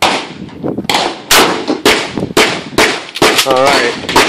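A shotgun fires a rock salt round loaded with steak outdoors, giving sharp, popping bangs rather than a heavy boom. Several loud, abrupt transients come in quick succession, mixed with people talking nearby.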